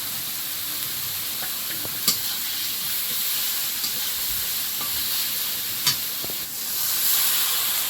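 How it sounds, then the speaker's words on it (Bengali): Spice paste of cumin, coriander and chilli powder sautéing in a pan with a little water, giving a steady close sizzle and hiss with a few sharp stirring clinks. "একটু জল দিয়ে মশলাটা কষিয়ে রেখেছি মশলাটা রেডি হয়ে গেছে"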